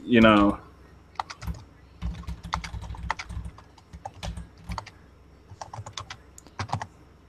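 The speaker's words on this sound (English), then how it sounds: "typing in a nice message that I should have picked Brown just to spite you" Someone types a message on a computer keyboard, a quick irregular run of near, crisp key clicks in short bursts with brief pauses, after a moment of speech at the start.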